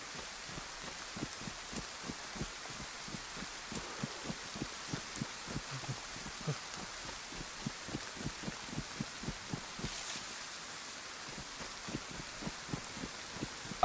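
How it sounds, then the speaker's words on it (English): Steady rain falling in the survival game DayZ at night, a constant wash of drops with soft regular patter beneath it, no voices. "It's raining."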